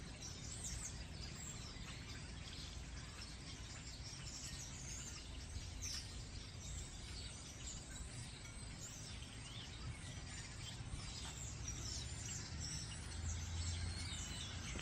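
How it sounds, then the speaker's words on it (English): Many small birds chirp and twitter continuously in two trees outdoors, a faint, distant chorus of overlapping calls with no talking. "there are all kinds of little birds up in these 2 trees right here, and they are talking."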